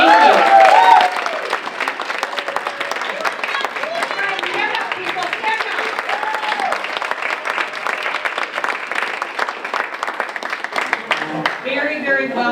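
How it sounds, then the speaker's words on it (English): A chamber of commerce graduation audience gives sustained applause for a staff member, a dense, even wash of many hands clapping that holds steady for about twelve seconds, with a short spoken line at the start. "So I would love to give Lindsay a round of applause"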